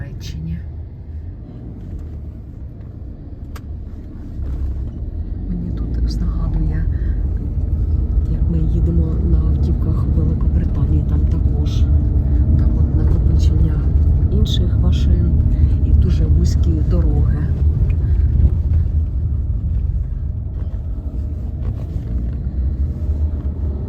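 Slow, heavy road traffic with cars packed bumper to bumper makes a dense, continuous low rumble that swells after the first few seconds and holds steady, with a voice talking over it throughout.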